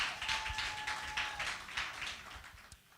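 Audience applause after a grant winner's runner-up donation is announced at a business and career expo, steady dense clapping with scattered individual claps that slowly fades toward the end.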